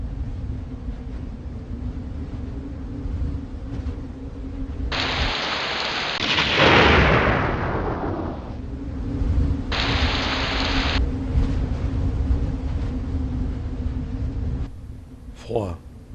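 Steady rain pours down on a hiking trail along the GR10, and a loud roll of thunder swells and fades in the middle of it while a voice talks over the storm.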